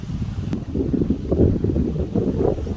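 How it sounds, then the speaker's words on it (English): Steady wind on a kayaking outing in the woods buffets the microphone with low rumbling gusts, rising and falling throughout, loud and close with no voices. "It's so windy today"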